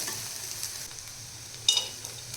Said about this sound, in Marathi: आता कांदा आपण एक दोन मिनटं हा छान फ्राय करून घेऊया